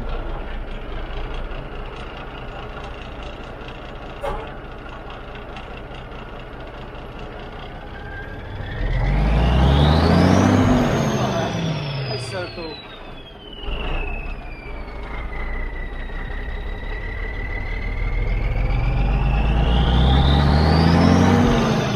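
An old Schneider International cabover truck engine runs loudly and up close, idling before revving up and falling back, then climbing again toward the end.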